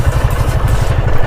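A motorcycle engine left running idles loud and close with a steady, rapid low thumping pulse and no talking.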